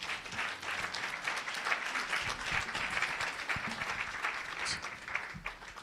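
Sustained applause from a conference audience, dense and steady clapping that fills the room continuously without pause, with no speech over it.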